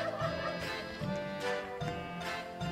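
Repeated turkey gobbles from a turkey-themed town-building video game, several bursts in a row, clear and fairly close, with no talking over them.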